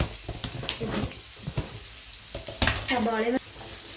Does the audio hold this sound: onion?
yes